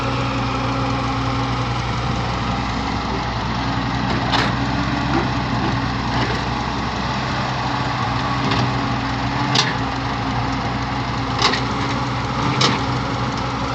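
A close tractor engine idles with a steady low rumble and hum, punctuated by occasional sharp clanks and knocks.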